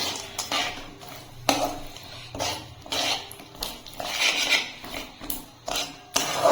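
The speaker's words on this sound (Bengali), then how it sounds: "এখন আমি এর ভিতরে দিয়ে দিচ্ছি বাদাম বাদামটা দিয়ে নেড়ে নেবো" Nuts being stirred into fully melted sugar in a pan, a close series of irregular scraping and clattering strokes of a spoon against metal, with rattling bursts of loose nuts between brief pauses.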